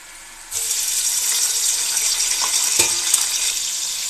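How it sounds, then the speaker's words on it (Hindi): Chopped onions drop into hot oil already seasoned with cumin for an okra stir-fry, setting off a sudden loud, steady sizzle that keeps crackling close up, with a brief clatter near the end. "हमने इसके अंदर प्याज को डाल दिया है ऑयल के अंदर"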